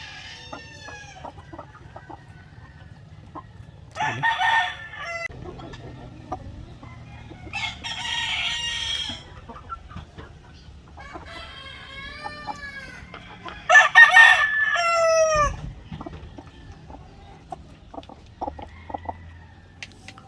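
Hens with severe colds and swollen faces cluck and murmur steadily while a rooster crows loudly a couple of times, with shorter calls scattered between; no talking.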